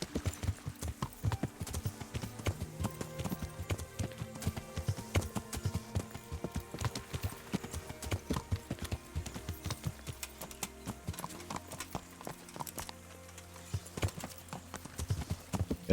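Horse hooves clip-clopping at a steady walking rhythm while riding in Kingdom Come Deliverance, a video game, close and continuous for the whole stretch with no talk over it.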